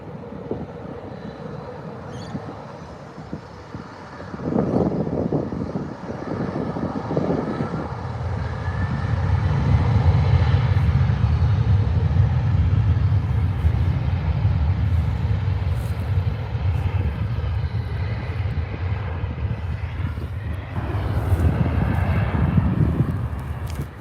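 Alliance Airlines airliner engines spool up for takeoff at Adelaide Airport, a loud sustained roar that swells around five seconds in and holds steady, heard from a distance with no talk.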